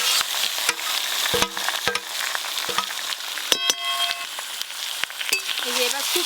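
Marinated bhetki fish goes into a pan of fried onions with a steady sizzle, broken by repeated sharp metal clinks of a utensil against the pan.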